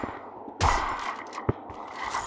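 Gunfire in Free Fire during a custom match, with one loud sharp shot followed by a sustained bright burst and a second short crack close up, and no talking.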